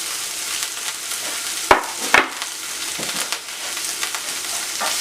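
Chopped onions sautéing in sardine oil in a pan, a steady close sizzle with a couple of sharp clatters as they go in, then crackling frying throughout.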